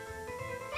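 A puppy yelps in an Earthworm Jim video game level, a single short whimpering yip under a tonal game music bed, close and fairly clear.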